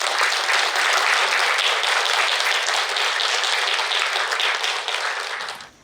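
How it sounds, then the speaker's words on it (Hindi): Loud, sustained applause from an audience at the Patanjali Pyramid Meditation Center in Vadodara, a thick wash of many hands clapping together that fades out in the final moment. "एक बार सब लोग जोरदार तालियां बजाएंगे।"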